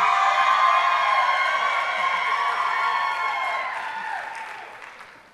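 A crowd at a local dancing-competition stage show applauds loudly and steadily for about five seconds, a dense roar of clapping with some cheering, fading slightly toward the end.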